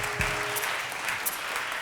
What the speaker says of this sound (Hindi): थोड़ी सी तालियां जरा जोर से बजनी चाहिए